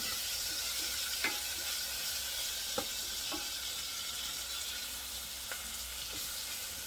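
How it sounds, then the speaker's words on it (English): Tomatoes sizzle in a hot, deep pan while rice and beans are being cooked, a steady broadband hiss throughout with a few sharp pops and spatters, no talking. "so I just add like the tomatoes in here"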